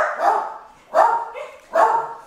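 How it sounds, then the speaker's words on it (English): Dogs bark three times in a steady rhythm, each bark loud and close with a short pause between them. "Our dogs."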